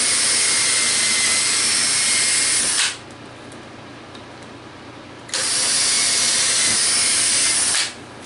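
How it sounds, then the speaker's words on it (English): Power drill with a 1/8 inch bit pre-drilling holes in the lid of a 2014 Harley-Davidson saddlebag, two loud, steady high-pitched whirring runs separated by a quieter pause, with no talking. "We're going to start with 1/8 inch drill bit."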